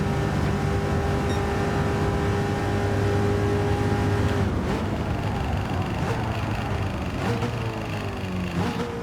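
A race car engine in the Gran Turismo 7 video game howls on a flying lap at the Sarthe circuit. The steady high-pitched drone holds at speed and shifts pitch several times around gear changes and braking, with no talk.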